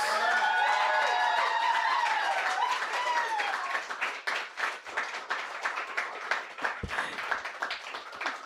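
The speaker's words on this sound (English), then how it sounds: "Please, round of applause to Genesis Perez." Audience applause at a fifth-anniversary arts celebration, dense and steady clapping that fills the room, then thins into scattered claps with a few voices over the last few seconds.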